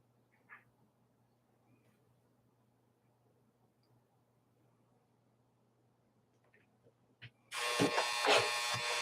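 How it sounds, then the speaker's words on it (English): Near silence with a faint hum and a couple of small clicks, then a loud, steady rumbling whir of a clothes dryer starting up. "Yep, there goes my dryer."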